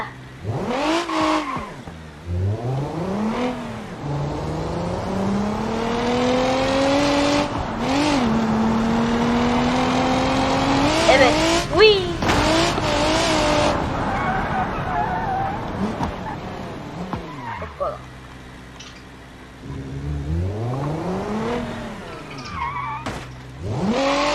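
A race car engine revs and roars repeatedly, pitch sweeping up and down through several loud bursts, with short drops between accelerations.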